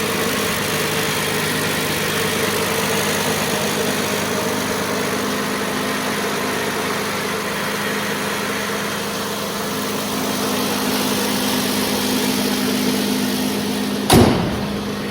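A Hyundai Grandeur HG running on LPG idles steadily, a smooth even engine hum held at constant loudness nearby, ending with a single short bump near the close.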